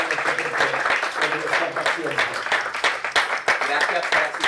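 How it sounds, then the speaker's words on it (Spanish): An audience at a literary talk applauds for the speaker Rafael, a steady dense clapping that runs throughout, with a voice speaking over it. "podemos darle un aplauso a Rafael"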